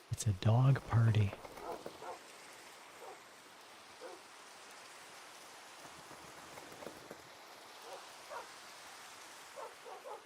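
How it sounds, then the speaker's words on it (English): A loud, close burst opens, then small barks and yips from dogs in Minecraft recur faintly at irregular intervals over a steady rain-like hiss. "It's a dog party."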